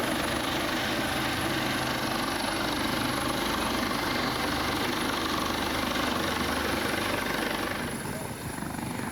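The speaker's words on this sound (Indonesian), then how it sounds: "Basarnas kerahkan helikopter untuk evakuasi korban banjir bandang" Basarnas search-and-rescue helicopter evacuating flash flood victims in Agam Regency, West Sumatra; a loud, steady rotor and engine roar fills the whole stretch, close and continuous, easing very slightly near the end.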